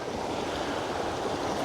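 Wind blows steadily outdoors beside shallow water on an overcast day while fishing, a continuous broadband rush with no talk.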